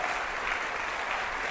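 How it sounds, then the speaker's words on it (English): An audience claps for a speaker at a time management talk, a dense, steady burst of applause close by. "Give Rebecca a round of applause"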